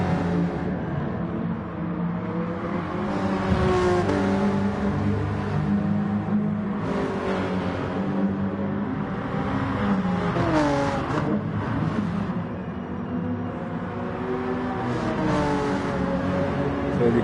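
Takata Moto NSX race car engine in a PS4 racing game, a continuous high revving drone with repeated rising and falling pitch sweeps through gear changes, loud and sustained throughout.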